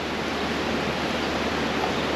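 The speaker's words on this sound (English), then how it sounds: "It's a pretty good downpour." Heavy rain with big drops pours down over farmland in a dense, unbroken hiss, loud and steady with no pauses.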